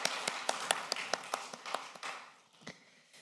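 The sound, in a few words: congregation applauding missionaries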